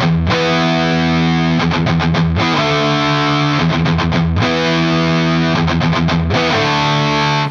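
Heavily distorted electric guitar chugs through a metal riff, loud and close, with palm-muted bursts of fast repeated strokes between sustained power chords and no voice.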